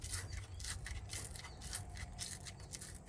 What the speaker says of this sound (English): I just roll up some sandpaper